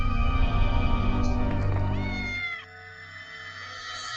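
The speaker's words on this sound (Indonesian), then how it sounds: "Ternyata cuma kucing." A cat meows in an old house, a drawn-out, wavering cry that rises and bends over a few seconds, fairly close, with voices mixed underneath before it fades to a quieter tail.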